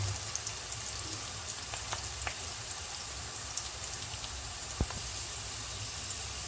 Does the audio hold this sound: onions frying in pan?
yes